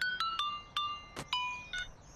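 A cartoon telephone rings in a run of short, chirpy electronic trills, about eight quick bursts spaced unevenly over two seconds, clear and fairly soft, with no voices.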